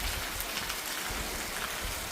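Rain falls steadily during a sun shower, a dense, even patter close by with no pauses and no voices.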